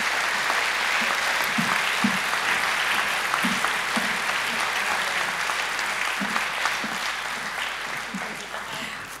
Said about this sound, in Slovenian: In seveda tudi aplavz in priznanje za podjetje Don Don in direktorico gospo Alenko Mozetič-Zavrl.